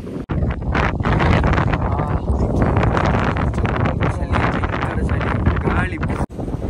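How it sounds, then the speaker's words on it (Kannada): Strong wind blowing across the microphone on a hilltop at Nandi Hills on an early morning ride, a loud continuous roaring buffet with gusts, heard close and alone. "ಗಾಳಿ"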